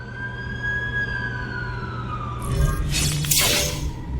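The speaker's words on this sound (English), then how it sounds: "That's the ambulance I called." A wailing ambulance siren sweeps down in pitch nearby, joined by a loud burst of noise near the end, in the video game The Amazing Spider-Man 2.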